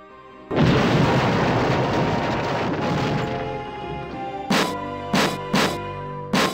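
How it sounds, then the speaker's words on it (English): A deep booming explosion in Space Quest 6 erupts behind a door and rumbles for a few seconds, followed by several short sharp bursts. "you hear and feel an explosion which seems to have come from behind the door"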